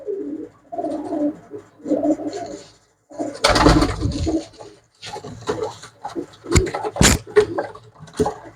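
Domestic pigeons kept by a fancier cooing in soft, repeated bursts close by, with scattered wing flaps and brief louder rustles between the calls, no talking.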